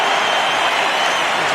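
Stadium crowd at an Ireland versus New Zealand rugby test match rising to its feet with sustained, dense applause and cheering, a steady loud roar filling the whole moment with no break.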